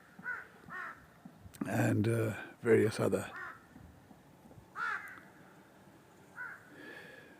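Crows caw repeatedly from a flock of scavenging birds, including eagles and vultures, circling a waste dump in Fagosh Kot, with loud calls in the middle and fainter ones later, mixed with someone talking.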